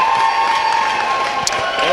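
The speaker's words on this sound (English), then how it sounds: "a big cheer. They have a big supporting crowd behind them." A big supporting crowd cheers and applauds right after match point in a 50+ doubles final, a loud continuous roar of voices and clapping close by.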